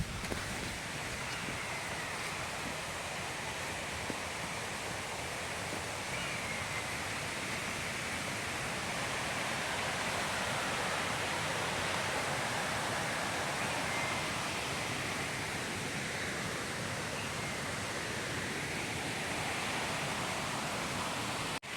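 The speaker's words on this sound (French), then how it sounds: "j'ai trouvé une petite rivière" A small river flows steadily in the open air, a continuous broad rushing wash that stays even and fairly loud throughout with no voices.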